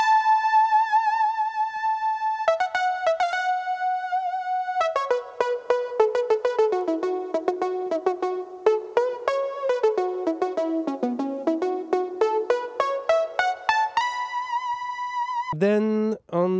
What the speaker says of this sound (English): we have a synth solo that was not on the commercial version, and it sounds like this